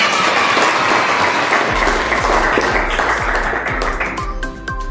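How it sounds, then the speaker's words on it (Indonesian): Students in a sociology classroom break into sustained, dense applause that fills the room. Toward the end the clapping thins, and a low rhythmic thumping rises beneath it. "Tepuk tangannya."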